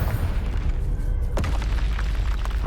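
A Confringo fire spell exploding in Hogwarts Legacy, a heavy, steady booming rumble held for a couple of seconds with a sharper burst near the middle, no voices.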